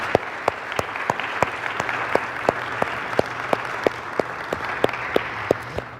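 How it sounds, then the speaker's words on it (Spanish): Church congregation clapping in unison at a Spanish-language sermon, a steady rhythmic beat of sharp claps, roughly three per second, carried over a low murmur of the crowd for several seconds. "Dale el aplauso a Jesús."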